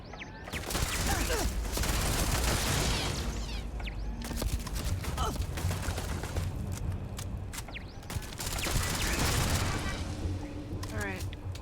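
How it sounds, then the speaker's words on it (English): Gunfire crackles in the space sci-fi video game Starfield, with bursts of rapid shots and heavy booming impacts rolling through the scene, loud and repeated across the clip with other game sounds mixed in. "Someone shooting in that direction?"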